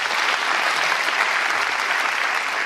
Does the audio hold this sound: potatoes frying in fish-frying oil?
no